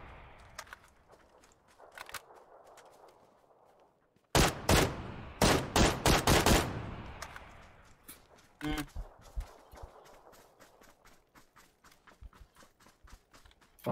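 Gunfire rings out in PUBG: scattered distant shots, then a loud close volley of rapid bursts, followed by more sporadic cracks tapering off.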